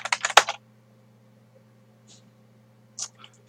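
Computer keyboard typing out a telnet command: a quick close burst of keystrokes, then a pause and a few scattered clicks, with no talk over it.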